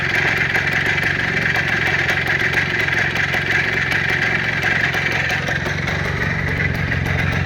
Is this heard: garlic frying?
no